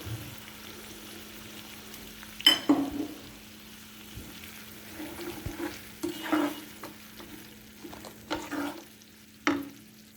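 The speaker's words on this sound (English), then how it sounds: "Then stir these ingredients" Ingredients for crispy chilli babycorn being stirred in a frying pan, with sizzling frying under scattered spatula scrapes and clinks, close and moderately loud, no talk.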